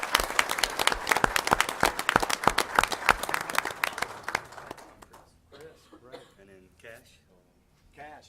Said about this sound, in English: Would you give them another nice round of applause